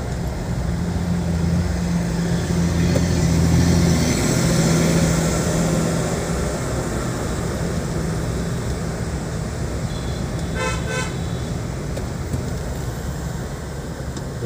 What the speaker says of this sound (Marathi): एवढं ट्रॅफिक झालेलं.